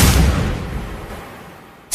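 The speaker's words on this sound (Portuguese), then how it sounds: "no final a explosão das granadas" Grenade explosion sound effect in a Brazilian funk track: one loud, heavy boom opens the clip and fades into a long rumbling tail before a sharp cut at the very end.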